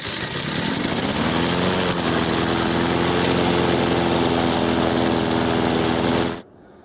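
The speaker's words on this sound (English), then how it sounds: "let's fire up the mower" A lawn mower engine runs close and loud with a steady drone that rises slightly in pitch, then cuts off abruptly near the end.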